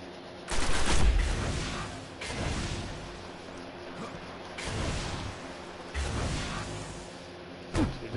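Rocket launcher blasts in Destiny during a Moon mission, four or five heavy booming shots spaced a second or two apart, each with a rumbling tail over steady background game noise.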